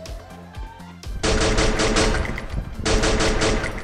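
Video game M60 machine gun bursts, two sustained stretches of loud rapid automatic fire after a quiet opening with faint game tones.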